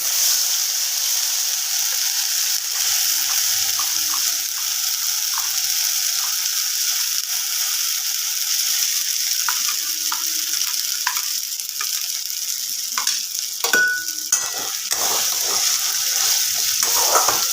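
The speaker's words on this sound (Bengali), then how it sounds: "এই কড়াইশুটির পুরটা কিন্তু কন্টিনিউয়াসলি নেড়ে যেতে হবে করার মধ্যে" Green pea filling for kachori sizzles steadily in a hot wok after asafoetida goes in, with a constant frying hiss and later scraping, stirring clatters near the end.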